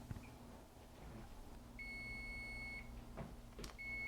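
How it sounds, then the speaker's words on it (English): An oven timer beeps while biscotti bake, sounding a few separate steady electronic tones over a quiet kitchen background. "as you can hear, my timer is going off."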